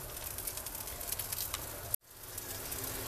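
Bacon-stuffed flank steak sizzling over a charcoal grill, a steady close crackling hiss that cuts off abruptly partway through, then slowly returns.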